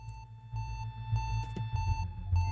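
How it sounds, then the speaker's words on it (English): Repeated electronic beeps in the video game Axiom Verge, a steady series of short, moderately loud tones pulsing over a low rumbling background, with no speech. "it's just beeping."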